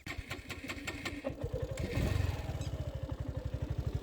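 A second-hand motorcycle engine idles up close with a steady, rapid thumping exhaust beat from its silencer that briefly picks up before settling back.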